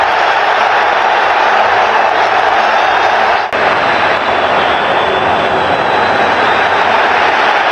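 A huge stadium crowd at an Inter Milan versus Barcelona Champions League football match roars continuously, a dense wall of cheering and noise with no breaks, loud and sustained throughout.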